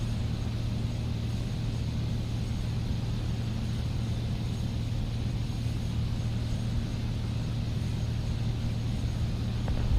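A biplane in War Thunder drones past as a steady, low engine rumble with a constant hum, holding an even level throughout with no voices.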